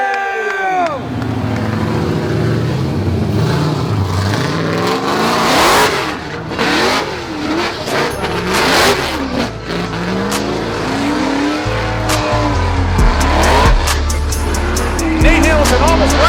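At a drift series event, drift cars rev hard with wailing engines rising and falling and long tire squeals, loud and close. A commentator's voice comes through the roar.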